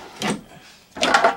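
Two drawers slide open or shut in the kitchen of a 2019 Entegra Esteem 30X Class C motorhome, each a short rumbling slide with a clack, close by and alone.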